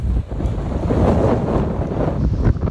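Strong Meltem wind gusts of 40 to 53 knots roar steadily across a sailboat at sea in the Cyclades, buffeting the microphone with a continuous rushing noise and faint water wash beneath.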